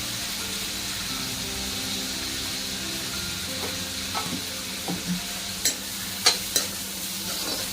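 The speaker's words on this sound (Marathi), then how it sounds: "हा टोमॅटो मस्तपैकी जसं आपण टोमॅटोच्या चटणीला शिजवतो त्याप्रमाणे शिजवून घ्यायचा." Tomatoes cooking with salt in a pan for a Maharashtrian varanfal, a steady soft sizzle under a few sharper clinks and scrapes of a spoon toward the end, no talking.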